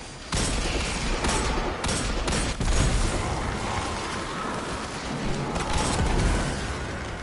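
Gunshots from a weapon in a video game crack out in a loud cluster of sharp reports over a continuous noisy bed, with a few distinct bursts early on and another near the end.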